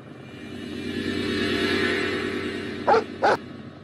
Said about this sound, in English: Lenny and Charlie get chased by the police's search dogs.